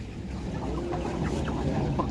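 Chickens cluck steadily nearby over a constant low background hum, with a few sharper squawks scattered through.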